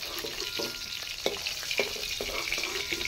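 Pieces of hilsa fish frying in hot oil in a wok, a steady close sizzle with a few louder crackles and spatters, no talking.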